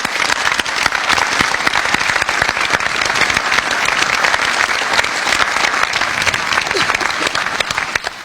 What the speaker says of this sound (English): Another round of applause for our veterans.